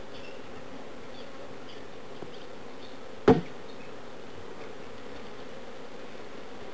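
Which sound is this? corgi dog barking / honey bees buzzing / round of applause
honey bees buzzing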